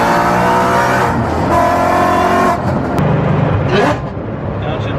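A heavily modified Ford Mustang, built to roughly 950 hp with no stock parts, drones loudly at close range while being driven, its engine note shifting and easing off near the end, with a voice faintly underneath.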